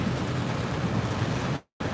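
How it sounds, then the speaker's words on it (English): Heavy rain pours steadily outside, a dense close hiss that fills the space with no talking, then cuts out abruptly for a moment near the end before resuming. "Man, it is raining."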